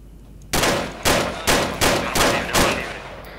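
Six loud, close gunshots from the video game Arma 3 fired in a quick, slightly uneven rhythm, each blast trailing off into a short echo, with no talking.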